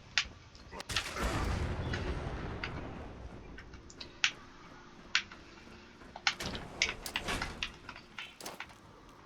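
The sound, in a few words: nuka grenade explosions in video game Fallout 76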